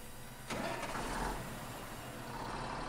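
Tractor engine in the Farming Simulator 22 video game starting up abruptly and settling into a steady mid-pitched idle, moderately quiet and heard alone without speech.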